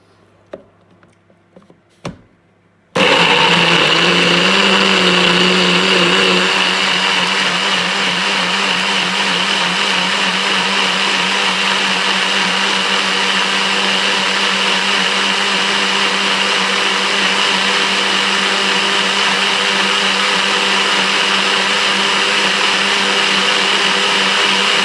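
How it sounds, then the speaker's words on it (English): A kitchen blender whirs loudly and steadily as it purées spring onions, with its motor starting after a few seconds of quiet handling and a faint clink, then holding a constant, close whine. "So I'm now gonna blend this. So I'm going to start blending it."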